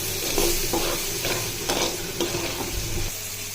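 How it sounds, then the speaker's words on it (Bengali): Shrimp are stirred and fried in a pan with spices, a continuous near sizzle broken by repeated scraping strokes of a spatula at an uneven rhythm, no talking. "একটু নাড়াচাড়া দিয়ে লই ভালো করে। চিংড়ি মাছটাও ভেজে নেই।"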